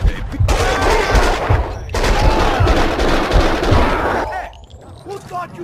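Rapid bursts of gunfire from the video game Max Payne 2, loud and close, with dense repeated shots broken by brief gaps and a sharper final volley; voices may be talking underneath.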